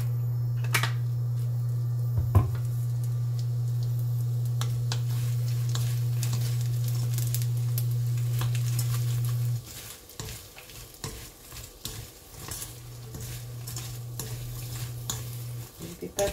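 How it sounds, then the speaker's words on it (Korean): Grapeseed oil sizzles steadily in a pan as ingredients are stir-fried for a Korean side dish with cheongyang chili peppers. The loud, continuous sizzle lasts about ten seconds, then gives way to quieter clatter and intermittent frying. "일단은 포도씨유를 넣고 볶을게요."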